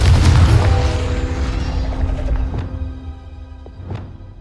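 A Confringo explosion spell goes off in Hogwarts Legacy, a loud deep boom that decays over a few seconds, followed by a faint tonal ring and a smaller secondary burst.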